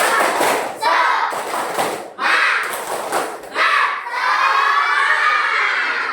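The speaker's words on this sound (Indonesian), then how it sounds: "Tepuk semangat." Schoolchildren in a classroom chanting and clapping a rhythmic spirit cheer in loud group bursts, with shouted voices and a final drawn-out collective shout.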